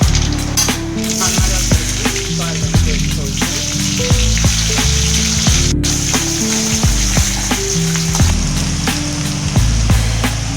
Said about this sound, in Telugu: ఆయిల్ అనేది హీట్ అయింది ఫ్రెండ్స్. తర్వాత మనము దీంతో ఆవాలు అనేది వేసుకోవాలి